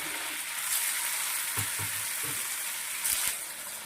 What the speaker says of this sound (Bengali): ভেজে নেই, কতক্ষণ বসে থাকবো, ভেজে নিচ্ছি